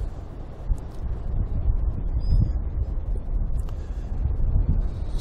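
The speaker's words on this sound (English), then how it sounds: "bloody winds today, they're gusting at 25 k's an hour" Gusting wind buffets the microphone near the water while a ferry and container ship pass, a steady low roar that swells and eases in waves with no speech.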